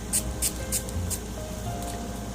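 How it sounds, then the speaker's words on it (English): A facial mist spray bottle gives four quick hissing spritzes in a steady rhythm, close and crisp, spaced just under half a second apart over a low background hum. "So we're just gonna spray some."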